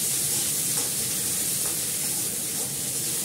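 Bay leaf and ginger paste sizzling in hot oil with cumin seeds just tempered in a home kitchen, a steady loud hiss that carries on unbroken.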